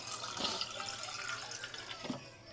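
Tap water runs into a cooking pot to make broth, a soft continuous splashing and gurgling heard close by and fairly quiet, with no talking.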